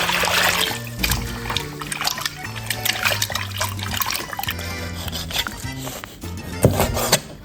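Squid is rinsed under running water in a kitchen, a close run of trickling and splashing with intermittent clatters, louder bursts near the end, and no talk.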